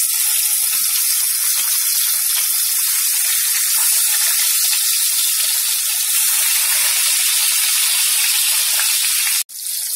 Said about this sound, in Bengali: তেলটা গরম হয়ে গেছে, মাছগুলো ভেজে নিচ্ছি।